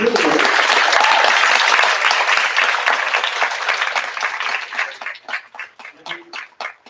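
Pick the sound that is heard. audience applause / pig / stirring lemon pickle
audience applause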